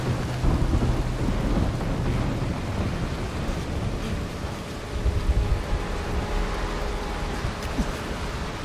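Steady rain hisses with low thunder rumbling through it in the video game Dying Light: The Following, a continuous stormy wash with no voices.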